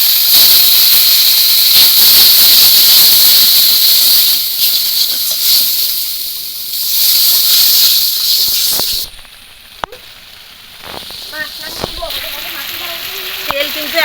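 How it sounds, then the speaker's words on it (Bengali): A chili powder spice paste fries with a little water in a pan for a bamboo shoot and prawn curry, hissing loudly and steadily before the sizzle drops to a quieter crackle, with brief stirring clatter. "এবার মশলা একদম ভালো করে জল অল্প দিয়ে পুরো কষিয়ে নেব।"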